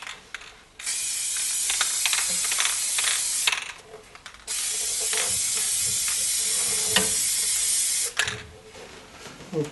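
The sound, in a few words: spray painting mandolin parts in garage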